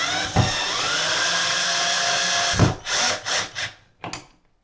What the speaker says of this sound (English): I'm just screwing this in the wall